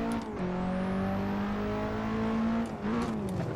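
Nissan S15 Silvia engine in a racing sim over-revs on a missed shift, a steady high-pitched wail that holds near one tone, dips briefly as the gear is found, then climbs again, loud and continuous with no talking.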